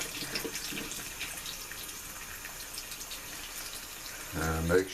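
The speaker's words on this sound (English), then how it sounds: "start to fill it up a little bit and dump it out" Water running from a tap into a soapy container, a soft steady hiss of flow that rises into a louder, fuller gush of filling near the end.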